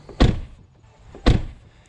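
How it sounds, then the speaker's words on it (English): The driver's side door of a Tesla Model 3 fitted with aftermarket wind-noise seals is shut twice, two solid, close thuds about a second apart, each with a short fading rattle, with no talk. "And now we're gonna go listen to the driver's side door."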